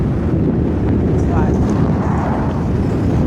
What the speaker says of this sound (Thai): โอ้ลม